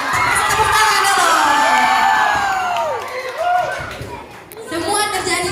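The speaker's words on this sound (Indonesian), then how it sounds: "Tepuk tangan dulu." A crowd of junior high school students at a school event cheers, whoops and shouts loudly for several seconds, fading into scattered voices before a brief renewed burst of cheering.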